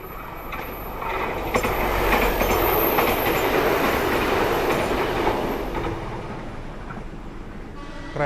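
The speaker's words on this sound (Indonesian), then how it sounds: "Kereta bandara ya, dari Yogyakarta International Airport tujuan stasiun Tugu." An airport rail train running from Yogyakarta International Airport toward Tugu station rumbles past on the railway, a loud, steady roar with rhythmic wheel clatter and faint squeal, swelling and then easing as it goes by.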